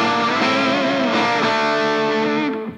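Gibson Les Paul Melody Maker electric guitar from 2014 played through heavy distortion, a thick sustained chord ringing loud and steady for nearly three seconds before cutting off, with no voice over it.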